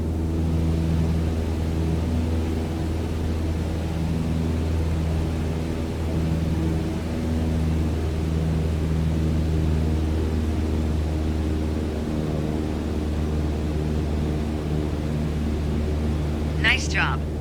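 A small single-engine propeller airplane engine in Microsoft Flight Simulator drones steadily and loudly at cruise power near 2,300 RPM, with a constant low harmonic hum that continues unbroken; a brief higher chirp sounds near the end.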